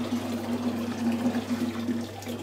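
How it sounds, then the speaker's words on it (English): Boiled water pours steadily into a bucket holding straw, a soft continuous splashing trickle over a low steady hum, with no voices. "And we'll use a little bit of boiled water"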